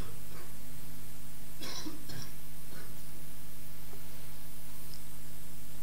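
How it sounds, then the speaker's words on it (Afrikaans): A person coughs a few times during a church gathering, short rough bursts heard somewhat distant over a steady background hum, with no talking. "Daai hoesie van jou, ne?"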